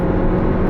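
Skoda Octavia RS engine pulling under steady load on a race track, a close, dense, continuous drone lasting under a second without clear gear changes.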